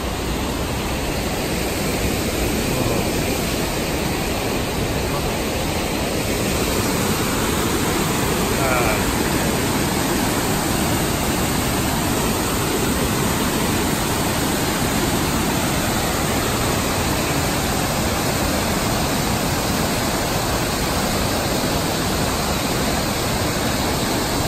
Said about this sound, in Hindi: इधर से भी एक झरना है, ये देखो सी